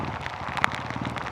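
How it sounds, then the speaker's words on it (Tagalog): Heavy rain pours down in a steady, dense hiss of drops striking surfaces, with a sharp tap partway through and no voices. "Lakas pa rin ang ulan."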